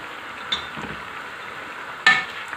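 Potatoes and spinach being stirred in a pressure cooker for aloo palak, with a couple of sharp spoon scrapes against the metal pot over a soft, faint sizzle, no talking.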